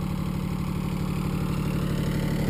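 A small diesel tractor engine pulling a lawn sweeper runs at a steady, close idle. It gives a continuous low chugging throb with an even mechanical vibration and no voices.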